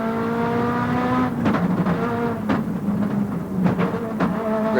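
An onboard race car engine at the 1998 Pikes Peak hill climb drones loud and steady, with gear shifts and revs dipping and rising, heard close from inside the car.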